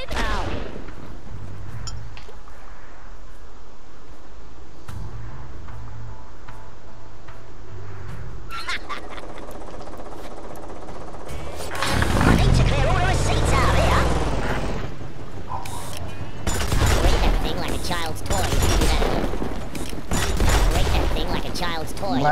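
Gunfire and explosive weapon blasts in the turn-based artillery game Worms W.M.D, with bursts of loud shots and impacts clustered in the second half after a quieter stretch with a voice talking.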